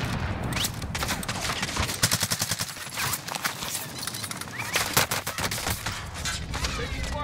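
Rapid, dense gunfire in Call of Duty Warzone, with loud overlapping bursts of shots and impacts continuing throughout, close and intense.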